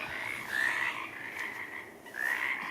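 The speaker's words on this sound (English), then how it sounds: "That little slit next to their tongue allows the air to fill up the vocal sac under their throat. And the sound reverberates and vibrates" Frogs croak steadily at a pond, a dense chorus of rasping, pulsing calls with two louder, closer croaks standing out.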